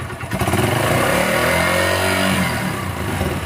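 Throttle blips on a Yamaha YBR 125 motorcycle engine, loud and close, the pitch climbing and falling as the engine revs briefly and settles back toward idle.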